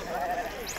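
A sheep bleats once, briefly and close, at a busy outdoor livestock market selling sheep, with a murmur of crowd noise and talk around it.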